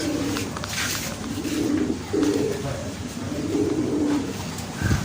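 Racing pigeons cooing at a loading station before a race, repeated soft throaty coos from several birds close by, with rustling and handling noise around them.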